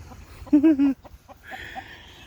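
A short burst of chicken clucking, three quick harmonic calls close by, followed by quieter farmyard rustle and a brief higher squawk.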